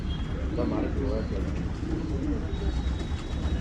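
Old-line pigeons offered for sale in Bangalore coo softly at a distance, low repeated calls sitting beneath steady background hum and people talking nearby.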